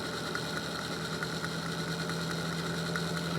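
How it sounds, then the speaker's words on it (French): A steady electric motor hums in a homemade free-energy generator rig, settled at about 600 rpm with a constant mid-pitched drone and faint vibration, close and unbroken, with no talk. "Le moteur est stabilisé."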